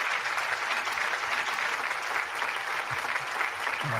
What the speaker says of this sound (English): we're gonna give her a round of applause